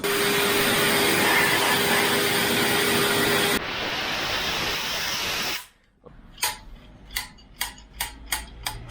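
A vacuum cleaner sucks dust out during a Land Rover Discovery transmission install, a loud steady roar that drops in pitch midway then cuts off, followed by a series of sharp clicks and knocks.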